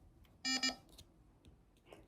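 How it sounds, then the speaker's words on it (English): A wheelchair gives two quick electronic beeps close together, followed by faint clicks and quiet background noise. "If you hear that beeping sound, that's just my wheelchair."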